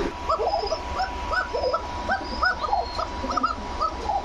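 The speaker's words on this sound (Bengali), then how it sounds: "আমি শুধু ডাকটা দেখাইলাম দর্শক আপনাদের, দেখছেন তো কতটা চিকন কন্টের কবুতর" Thin-voiced racing pigeon calling in a cage, a series of short high cooing notes repeating about once a second, close and clear over a quiet background.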